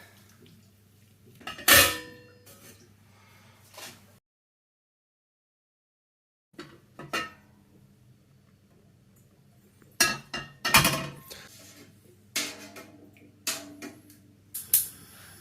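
A sanitised spoon clinks against a pot while stirring crystal malt and chocolate malt grains for a home-brewed real ale, giving several sharp metallic taps in short bursts separated by a silent gap.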